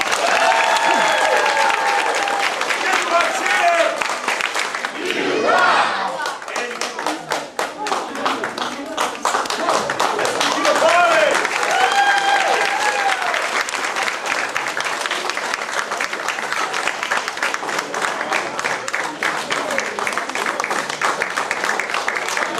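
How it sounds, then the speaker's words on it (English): Audience applause at a martial arts belt ceremony, a dense, steady burst of many hands clapping that fills the room from start to finish, with a short murmur of voices partway through. "Give them a big round of applause."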